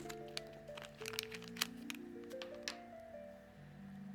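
A few sharp clicks and small snapping sounds as a watch case cover snaps into place stand out over soft, steady background music.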